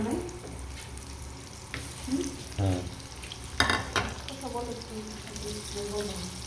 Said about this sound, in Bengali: এই যে সসেজ, চিকেন সসেজগুলো একটু ভাজবো।